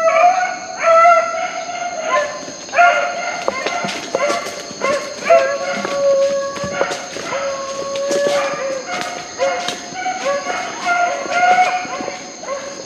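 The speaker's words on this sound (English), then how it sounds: "Right, I hear Shiba." A hunting dog in a Trinidad forest barks and yelps repeatedly in an irregular series of sharp, high-pitched calls, clear and moderately close, over a quiet woodland background.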